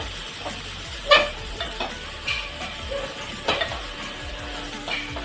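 A spinach and gram flour mixture is stirred in a hot pan, making a soft constant sizzle broken by repeated scrapes and light clinks of the spoon against the pan, with no voices.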